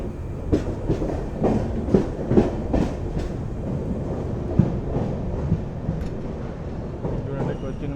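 Intercity Express 12677, running from Bengaluru to Ernakulam, rolls along with rhythmic clickety-clack wheel beats over rail joints and a rumbling carriage, while voices talk nearby.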